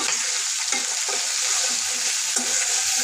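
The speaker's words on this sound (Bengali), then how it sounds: "এটা আমি একটু হলুদ লবণ দিয়ে ভেজে নিব।" Prawns fry with turmeric and salt in a pan, a loud, constant sizzle broken by repeated scraping strokes of a spatula stirring them around.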